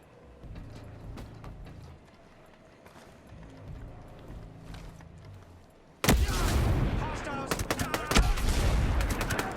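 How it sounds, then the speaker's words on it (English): Explosion packs blow up in the Ghost Recon Breakpoint video game, a sudden loud blast that gives way to dense crackling gunfire and rumble after quieter game ambience with scattered shots. "I just totally blew up their explosion packs"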